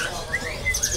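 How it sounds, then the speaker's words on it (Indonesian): A tame imported mini wambi, a small sikatan londo flycatcher, gives several short high chirps over a steady background hiss, fairly close and moderately loud, with no one talking. "Nah, ini wambinya ini jinak, wambi mini impornya"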